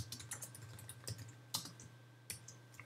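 Typing on a computer keyboard in a word-processing lesson, a quiet scatter of light key clicks with a few sharper taps and pauses between bursts, heard alone without speech.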